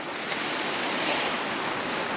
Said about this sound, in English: It's a headwind right into your face, and it's that wind chill factor.